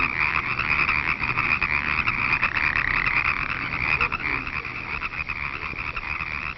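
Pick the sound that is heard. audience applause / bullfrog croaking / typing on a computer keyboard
bullfrog croaking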